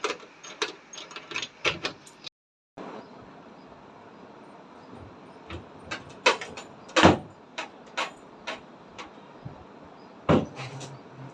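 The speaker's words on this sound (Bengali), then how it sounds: "বিশাল কষ্টকর ব্যাপার হয় আলমারি খোলা জানো তো কিন্তু খুলছি তাও কেননা একটা শাড়ি বার করবো আর কি" A wooden almirah wardrobe is opened at home in a string of clunks, knocks and creaks of doors and drawers as a sari is taken out, with sharp irregular bangs spread through the clip and a brief pause near the start.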